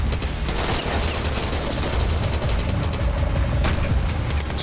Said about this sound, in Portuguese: Eu tenho que dar rajadinhas bem curtas pra não subir tanto a arma aqui.